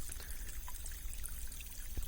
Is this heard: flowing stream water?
yes